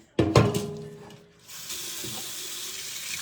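Chili rinsed under a running kitchen tap: a couple of sharp clunks and splashes at the start, then a steady, close hiss of faucet water streaming into the sink.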